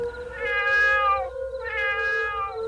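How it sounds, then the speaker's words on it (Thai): A black cat yowls in two long, loud drawn-out wails, one after the other, with no voices around it. "มีแมวดำตัวหนึ่งกระโจนแยกเขี้ยวร้องเงาเงา มากลางวงไพ่"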